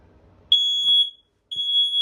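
Two loud, piercing high-pitched electronic beeps from a smoke alarm inside a 2026 Forest River Rockwood Ultra Lite 2608BS travel trailer, close by, separated by a short pause, with a faint clunk in between.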